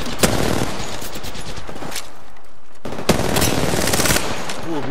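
Rapid automatic gunfire in an online shooter game, dense bursts near and loud that drop out briefly midway, then resume with heavy chatter until the end.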